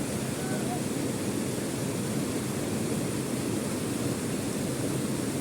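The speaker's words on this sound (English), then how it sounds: "just see the ASMR sound, man. The water flowing for some minutes." A valley stream in Kashmir rushes steadily, a dense, even wash of flowing water that stays loud and unbroken throughout, with no voices over it.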